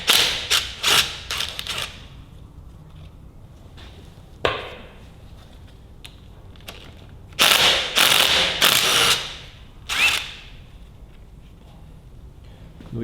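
A ratchet works bolts loose on a Ferguson TEA20 tractor, with quick bursts of close clicking broken by pauses and a few dull thumps.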